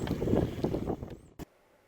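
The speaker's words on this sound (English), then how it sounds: "But it's pretty windy." Steady broadband wind rumble buffets the microphone aboard a 17-foot Boston Whaler on the Intracoastal Waterway for about a second, then drops away after a brief thump, leaving near silence.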